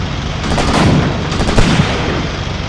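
Loud tank gunfire in the World War II tactics game Graviteam Tactics: Operation Star, a rumbling burst of repeated cannon shots with booming low-end thumps rolling into one another.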